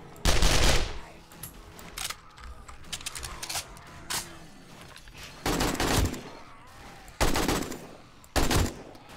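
Bursts of gunfire from a gun in the video game 7 Days to Die, several loud broadband volleys of varying length spaced irregularly over steady game ambience, with no talking.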